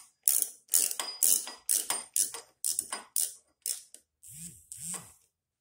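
A ratchet wrench clicks in quick bursts while tightening a T40 Torx bolt, about ten separate close ratcheting strokes in a steady rhythm with brief pauses between them.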